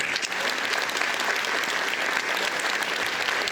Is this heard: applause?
yes